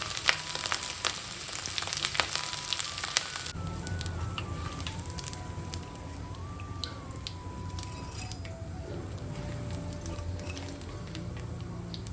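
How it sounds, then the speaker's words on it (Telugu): Dough for aloo karachi rava mixture frying in hot oil makes a steady, crackling sizzle that runs throughout, with faint metallic clinks and tones in the background and no talking. "కొంచెం నురగలు తగ్గిన తర్వాత అప్పుడు కలిపి ఇంకొక సైడ్ టర్న్ చేసుకుని వేయించుకోవాలి"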